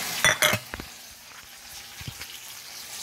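Onion and garlic dropped into hot oil for paksiw na ginataan, with a couple of loud spattering bursts at the start, then a quiet sizzle with occasional utensil clicks.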